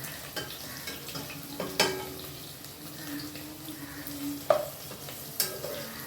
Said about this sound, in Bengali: এখানে 5 রকমের ভাজা ভাজতে দিয়ে দিয়েছি।